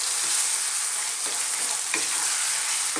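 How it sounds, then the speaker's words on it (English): Lamb pieces stir-frying in a pan over medium-high heat, a steady dense sizzle throughout with a few faint scrapes of stirring, close and loud, no voices. "we're going to just stir fry this round on a kind of medium to high heat"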